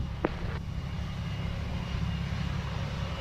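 Airliner at Montego Bay airport in Jamaica, a steady engine drone heard from a distance with a brief sharp click near the start.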